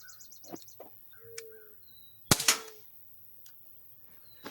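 Umarex Smith & Wesson M&P 40 .177 CO2 pistol firing a single sharp, loud shot mid-clip, with birds chirping and tweeting softly outdoors before and after.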